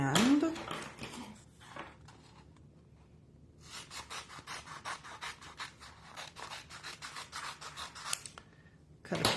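Scissors snip through paper in a quick run of crisp, rhythmic cuts, preceded by rustling and handling noises, close and fairly quiet.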